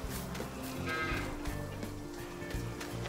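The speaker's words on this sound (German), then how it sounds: "Da sind die Kühe." Cattle low and moo within a farming simulation set in Thuringia, their calls steady and moderately close over a continuous bed of ambient game noise, with no speech.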